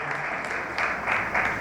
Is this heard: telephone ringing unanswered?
no